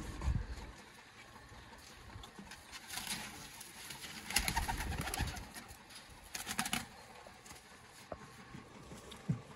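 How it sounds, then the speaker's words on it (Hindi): Indian black pigeons coo in a loft, soft repeated low calls rising and falling at moderate distance over faint background rustling. "नेक्स्ट जोड़ा दोस्तों आ गया इंडियन काले, इंडियन दोस्तों काले कबूतर ने।"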